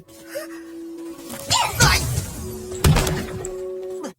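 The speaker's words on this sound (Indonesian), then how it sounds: "terdengar suara piring-piring pecah dari kamarnya" Plates smash inside a room in a scene from the animated film Xi Xing Ji: two loud, close crashes about a second apart over a steady background tone, with a brief clatter trailing after each.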